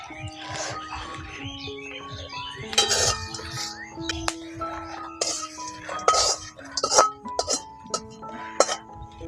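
A metal kadai lid comes off after corn has been popped, giving sparse close clinks, scrapes and rattles of metal against metal over a quiet background.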